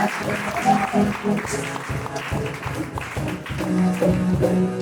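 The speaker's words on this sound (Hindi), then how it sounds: "तालियां बजाएं" A church congregation at a Mother's Day Sunday service claps to welcome a visitor, rhythmic hand claps landing in a steady beat over sustained keyboard-like musical tones.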